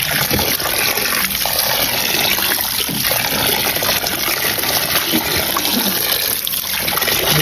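Grapes are washed in salted water under a strong, continuous gush of running tap water that splashes and churns loudly and steadily throughout, with no talking.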